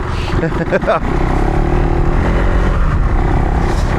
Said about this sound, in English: I'm on the throttle, the bike's pulling nicely